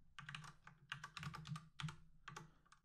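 Password being typed on a computer keyboard while setting up an SRX chassis cluster, a quick run of close, crisp key clicks in uneven bursts with a steady low hum underneath.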